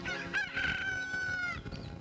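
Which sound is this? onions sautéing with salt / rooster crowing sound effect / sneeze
rooster crowing sound effect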